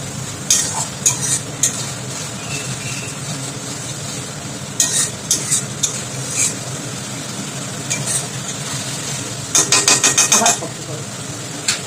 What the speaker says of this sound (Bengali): কাঁচা লঙ্কাটা দিয়ে দিলাম, দিয়ে ভালো করে কষবো।